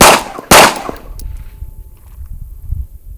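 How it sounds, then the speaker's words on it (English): Two loud, close gunshots from a non-ported 2011-style pistol at an outdoor shooting range, half a second apart, each a sharp crack with a short ringing tail, followed by quiet range ambience. "I'm gonna load up some rounds, take a couple shots"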